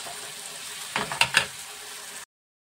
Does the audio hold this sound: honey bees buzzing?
no